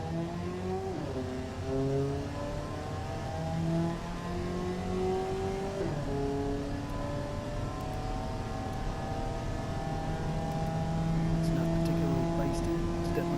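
A low-powered 900cc economy car in the game Automation runs on a test track, its engine whining upward repeatedly through successive gear shifts in a steady, moderately loud drone.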